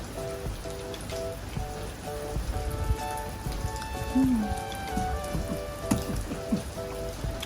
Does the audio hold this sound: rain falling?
yes